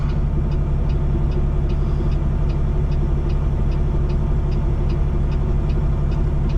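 A truck's engine rumbles heavily and close by near a railroad crossing, a steady, low droning roar with faint regular ticking, with no voices over it.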